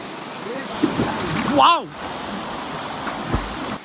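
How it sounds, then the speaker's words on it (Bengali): The Rupshi Chhara waterfall stream in Sitakunda gives a constant rushing flow close by, with a short tonal voice-like sound partway through over the water noise. "সামনে আরো আরেকটা ঝর্ণা দেখা যাচ্ছে"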